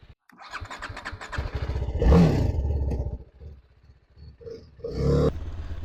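A TVS Apache RR310 motorcycle exhaust sounds close and loud, with a strong rev burst around the two-second mark and another near five seconds, separated by a lower, rumbling idle.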